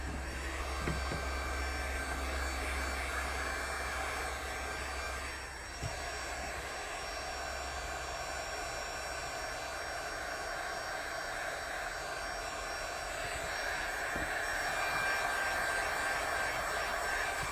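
A heat gun blows continuously and loudly up close, a steady rushing roar that holds evenly, dips briefly once, then carries on alone.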